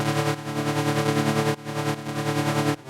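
Lower-register super saw synth layer, narrow and buzzy, holding dense sustained chords with two brief dips where the chord changes, loud and alone without any voices.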